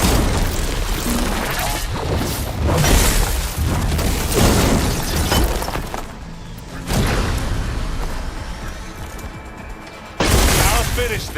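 Charges detonate to blow the regulator in Horizon Forbidden West, a series of loud, close, booming blasts and crashing debris, one after another, with a heavy burst near the end and voices speaking between them.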